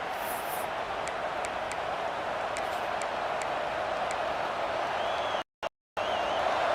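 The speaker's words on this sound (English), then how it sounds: "Listen to the crowd energy here in the early going." Steady, dense roar of a stadium crowd in a football video game, a broad wash of cheering noise with faint sharp ticks on top, cutting out briefly twice near the end.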